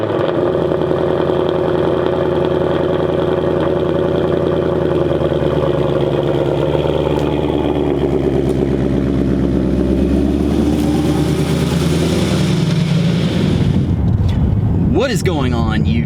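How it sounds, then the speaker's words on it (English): A car engine on its first cold start of the year settles into a loud, steady idle, droning evenly up close until a brief disturbance near the end. "First cold start of 2021."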